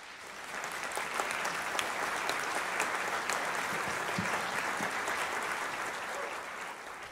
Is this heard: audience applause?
yes